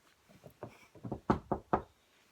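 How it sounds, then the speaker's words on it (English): Knuckles rap on wood in a short run of about seven knocks, starting soft and growing louder, the last three sharp, close and distinct, with no talking. "So I'm gonna knock on some wood here."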